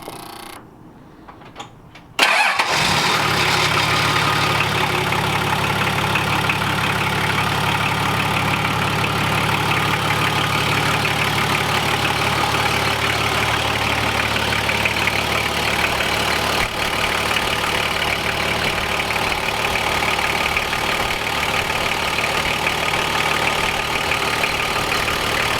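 A freshly fitted turbocharged car engine, with a new dump pipe and anti-surge turbo, cranks and catches after a brief quiet moment. It then settles into a loud, steady, rumbling idle that holds evenly throughout, with no talk over it.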